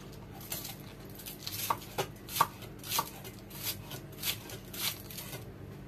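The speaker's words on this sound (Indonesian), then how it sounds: "Saya akan potong tipis-tipis." A knife slices spring onion and ginger thin on a cutting board, crisp taps repeating every half second or so, close and clear over faint room noise, with no talking.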